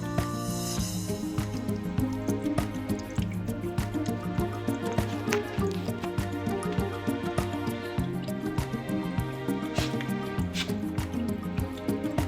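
Water drains from a household water pump tank through an opened air valve on top, giving a continuous wet dripping and gurgling over a steady mechanical hum.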